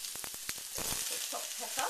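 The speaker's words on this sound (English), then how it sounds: "Just a few seconds, just to infuse the oil with the lovely garlic flavour." Garlic sizzles in hot oil with a bright, crackling hiss and a quick run of sharp spits and pops, close and steady.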